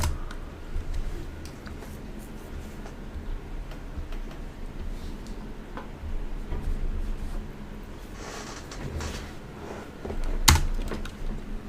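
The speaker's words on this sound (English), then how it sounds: "We'll then type reboot now" Keys clatter in irregular bursts on a computer keyboard as a reboot command is typed, close and fairly quiet, with a sharper click near the end and no talking.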